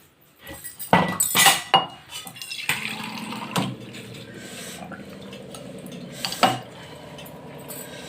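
Brinjal being tempered in oil in a pan for a coriander-chilli brinjal dish, with clinks of a utensil against the pan and a steady low sizzle running throughout, louder bursts of clatter early on.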